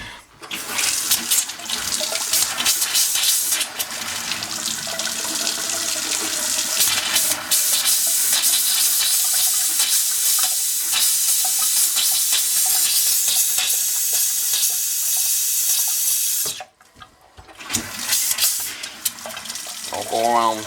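Water gushes steadily from a tap into a sink at a summer cottage as the hot and cold plumbing lines are bled after winterizing, a loud continuous rush that stops briefly and then resumes.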